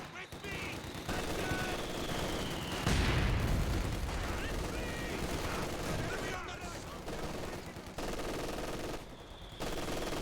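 Machine gun fire in the real-time strategy game Company of Heroes 2: steady rattling bursts and a heavy blast amid constant battlefield noise, with a commentator talking throughout.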